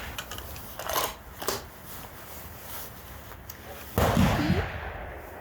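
Gunfire at an outdoor shooting range practising with Cadex and Mossberg firearms: several sharp reports at irregular intervals, the loudest and fullest blast near the end trailing into a short ringing decay.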